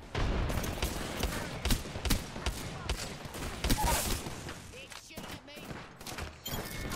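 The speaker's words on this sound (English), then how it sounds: "Grenade." Explosions and rapid gunfire in a video game firefight, dense and loud with repeated booms and bursts throughout, voices faintly underneath.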